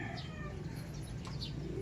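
Racing pigeons cooing at a loft, soft low coos and a few chirps over a steady hum, with brief light wing flutters.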